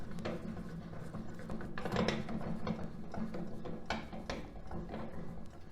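Blade-height mechanism of a Ridgid R4520 table saw, blade removed, being cranked up and down: a steady close grinding, ratcheting mechanical rattle with scraping gear noise throughout, no voices.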